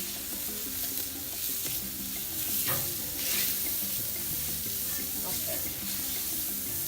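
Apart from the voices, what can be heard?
eggs sizzling on a warm comal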